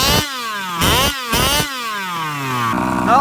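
A gas-powered large-scale RC car engine with a burnt clutch revs hard in three loud, rising bursts, each dropping back to a droning idle, then climbs into a higher, steadier whine at the end; no one speaks.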